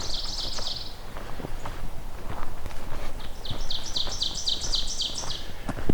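Buzzy, high-pitched insect-like songs of blue-winged warblers repeat in short trilled bursts, one near the start and a longer series in the second half, over soft outdoor background noise in Beverly Swamp, Hamilton.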